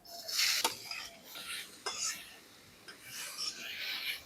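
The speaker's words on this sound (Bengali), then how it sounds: "গাজরগুলোকে হালকা ভেজে নিলাম" Grated carrots fry in a little white oil in a kadai while pitha is being made. A steady hiss of sizzling rises and falls in bursts, with scraping stirring strokes and a few sharp utensil clinks close by.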